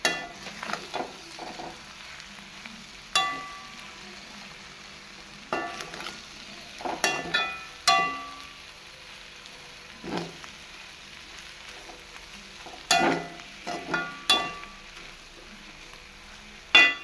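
Clams roasting in a pan with Kashmiri chili powder, a low steady sizzle broken by repeated sharp scraping stirs of a spoon against the pan.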